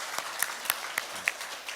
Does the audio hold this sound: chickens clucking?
no